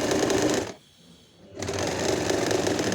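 Sewing machine stitching a ruffled frock for a young girl, a rapid mechanical whirr that pauses briefly mid-way and then resumes at steady speed, close and unaccompanied by talk.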